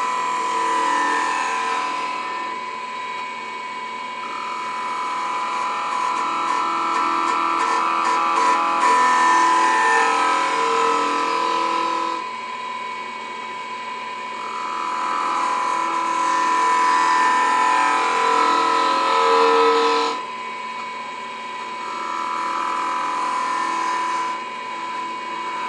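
A gouge cuts a face grain spindle on a wood lathe, a steady motor whine with a high scraping hiss. The hiss swells during cuts and eases between passes in three long sweeps, all close up.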